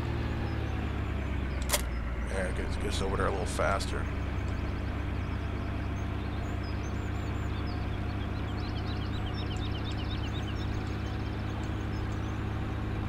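A truck engine in a farming video game runs at a low, steady drone with a few brief mechanical whines early on, while someone talks over it.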